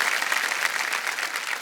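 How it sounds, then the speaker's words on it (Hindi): Studio audience applause on a televised quiz show, dense continuous clapping at an even level throughout with no voices over it. "जोरदार तालियां बज जाए आयशा जी के लिए"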